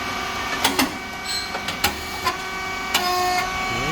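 A SYP4509 rice cake machine with coated moulds runs with a steady mechanical whine and hum, punctuated by several sharp clanks and hisses as its pressing cycle moves, recorded close in a workshop.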